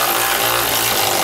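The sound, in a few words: wrench tightening a 13 millimeter bolt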